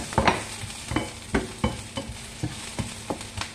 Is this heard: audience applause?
no